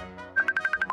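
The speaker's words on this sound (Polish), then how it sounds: "Telefon dzwoni" A phone ringing in a Roblox game, a quick burst of about six bright electronic beeps in a fast regular rhythm, loud and close.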